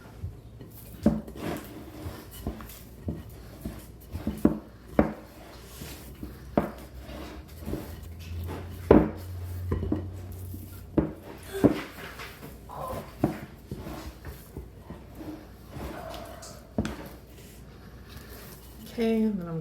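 Artisan bread dough ingredients being roughly combined for a Dutch oven loaf, heard as a string of soft, irregular knocks and squishy scrapes against the bowl, fairly quiet, with someone talking in between.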